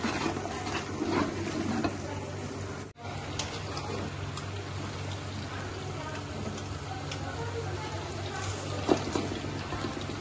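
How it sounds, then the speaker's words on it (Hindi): Whole spices sizzling in hot oil in a pot for beef pulao, a steady close frying hiss with faint stirring scrapes, briefly cut off once and then continuing evenly. "अब इन मसालों को मैं इस तेल में तल लूंगी, भून लूंगी अच्छा सा"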